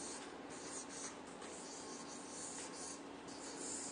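Chalk or marker scratches across a classroom board as a word is written, short hissing strokes with brief pauses between them, close but quiet, with no voices.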